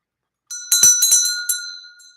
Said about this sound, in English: I feel inspired to ring the bell.